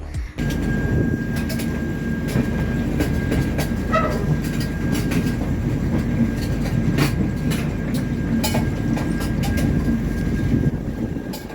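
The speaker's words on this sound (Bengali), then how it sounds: "ঠিক দশটা পঁয়ত্রিশেই কিন্তু আমাদের ট্রেন হাওড়া স্টেশন থেকে বেরিয়ে পড়লো পুরীর উদ্দেশ্যে" Puri Superfast Express train running after leaving Howrah station, heard from inside an AC coach as a steady loud rumble with rhythmic clickety-clack of wheels over rail joints and faint squeals, continuous throughout.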